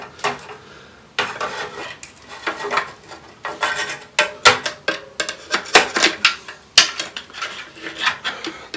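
Metal clanks and knocks come from prying a stuck part loose on an old, rusty 413 or 426 engine near a gasket, as a series of sharp, irregular impacts that grow denser and louder toward the end, close and with no talking.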